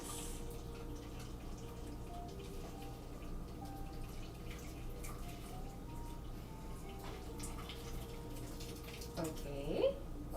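A kitchen tap runs while something is rinsed under it during hot soba and raw seafood prep, a faint, steady trickle with occasional drips and soft background voices.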